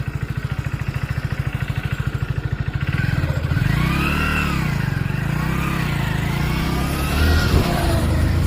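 A new motorbike idles with a rapid, even putter, then revs and pulls away, its engine rising and falling in pitch as it rides off at close range, fairly loud with a faint whine above.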